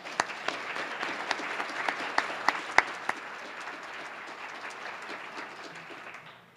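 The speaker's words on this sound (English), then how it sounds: "Please join me in a warm round of applause for all of them." An audience at a civic forum gives a warm round of applause, a dense, steady wash of clapping with a few sharp individual claps standing out, fading away at the end.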